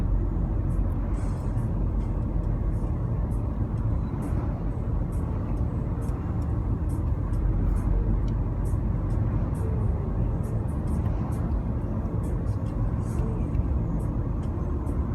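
Cars roll along a Hawaii road on the drive from Kailua to Kealakekua, a steady, close road rumble and tire roar with no break, heard from inside a moving vehicle.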